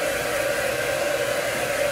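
A Revlon infrared hair dryer blows steadily at close range, an even rushing whir with a constant tone and no pauses.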